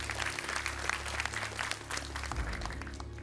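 An audience applauds at a ceremony, the clapping steady and continuous with no speech over it, swelling slightly toward the end.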